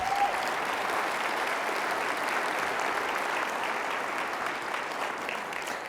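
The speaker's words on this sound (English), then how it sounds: "Let's give them a round of applause." Sustained applause from an audience fills the room steadily at one level for the whole stretch, a dense, even wash of clapping with no voices over it.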